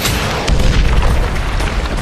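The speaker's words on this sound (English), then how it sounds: "One of the missiles scores a direct hit on the enemy bunker." A missile explodes on an enemy bunker in battle, giving a loud, dense boom with rumbling blast noise that fills the short moment.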